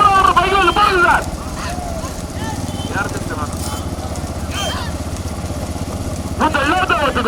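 Motorcycles idle and rev behind a bullock cart race in rural Tamil Nadu, their engines giving a steady close rumble while someone speaks over a loudspeaker throughout.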